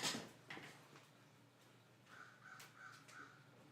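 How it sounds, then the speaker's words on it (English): Crows cawing outside an open window: several faint, harsh caws in a short series, following a soft thump near the start. "these crows are brutal. We got a murder of crows out here"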